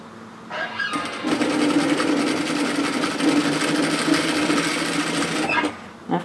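A sewing machine stitches fabric for a waterfall collar cardigan in one sustained run of steady motor hum lasting several seconds, close up and alone.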